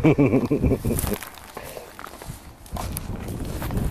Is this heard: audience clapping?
no